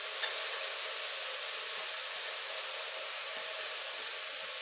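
A tempering for onion-greens bhaji sizzles in a pan on a lowered flame, giving a steady, even hiss that runs throughout with no talk.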